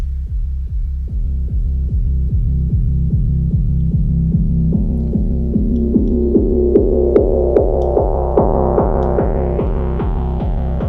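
A DAWless electronic track opens with a steady, thumping pulse of evenly spaced beats under a low drone, its low-pass filter gradually sweeping open so brighter, echoing upper tones rise and grow over eleven seconds.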